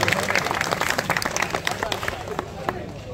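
A burst of clapping and applause from a group at a pigeon tournament prize ceremony in Amra Kalan, Sialkot, steady and fairly loud, with voices mixed in underneath.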